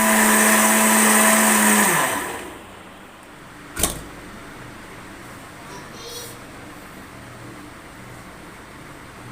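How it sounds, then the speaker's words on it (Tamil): An electric blender grinds an Oreo cookie milkshake, a loud steady whir for about two seconds that winds down and stops, followed by a single sharp clunk and near quiet. "மில்க் ஷேக் நல்லா அரைச்சாச்சு."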